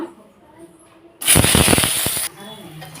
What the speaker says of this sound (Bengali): এই যে লঙ্কাগুলো রেখেছি এগুলো ভেজে নেব